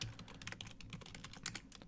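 Quiet, rapid typing on a computer keyboard, a continuous patter of close key clicks while an email address is entered, without any speech.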